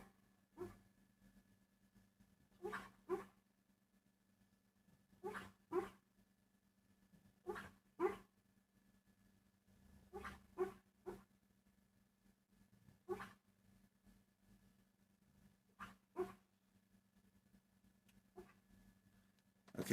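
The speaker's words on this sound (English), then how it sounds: "my dog is having a nightmare" A sleeping dog gives soft, muffled barks and whimpers in short clustered bursts every few seconds, faint and close against a low steady hum, with no talk.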